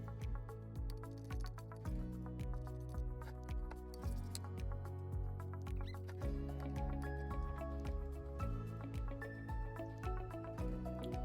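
Homemade slime of white glue and white glitter being stirred, soft wet squishing and sticky dripping sounds repeating in a steady rhythm, close and quiet, with a constant tonal hum underneath.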